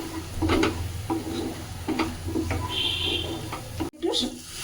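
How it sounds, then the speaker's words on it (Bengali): A spice paste for Boal fish curry is stirred and fried in oil, with a rhythmic scraping of the spoon through the pan over a soft, steady sizzle and a voice speaking faintly underneath. "মশলাটা আমি কষছি ভালোভাবে, যতক্ষণ তেল না ভেসে উঠবে ততক্ষণ আমি মশলাটাকে কষে যাব"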